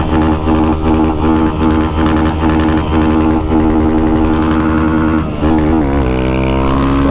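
Motorcycle, a Start 190, accelerating hard toward top speed on a Brazilian highway: a loud, close, sustained engine drone that climbs in pitch, then briefly dips and resumes at a gear shift.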